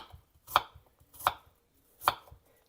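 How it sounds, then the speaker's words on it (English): A knife cuts thin slices from an apple quarter on a board, three crisp, evenly spaced cuts close by with quiet pauses between, no one speaking. "we're going to slice some apple. I like the apple sliced really thinly"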